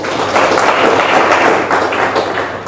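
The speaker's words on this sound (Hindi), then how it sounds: "एक बार जोरदार ताली बजाओ" A seminar audience at a direct-selling training session bursts into loud, sustained clapping that fills the room steadily and close-up for a few seconds.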